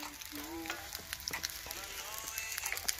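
Onions fry in a pan with a busy close crackle and sizzle, small pops and a faint scrape of stirring, with a brief voice murmur in the background.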